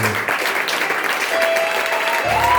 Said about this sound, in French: tu acclames et donnes une première acclamation au nom de notre Dieu